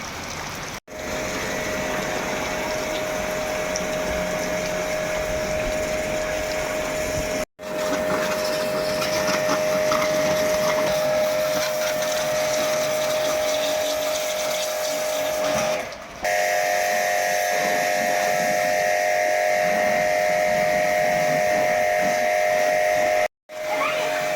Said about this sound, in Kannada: ನೋಡಿದ್ರಲ್ಲ ಪ್ರೆಷರ್ ವಾಷರ್ ಹೇಗಿದೆ ಅಂತ